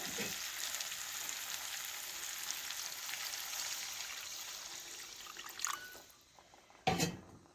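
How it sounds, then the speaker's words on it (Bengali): Water is poured into a sizzling pan of Bengali potato curry, giving a steady, soft frying hiss followed by two brief, louder splashing bursts near the end. "এবার পরিমাণ মতো জল দিয়ে দেব"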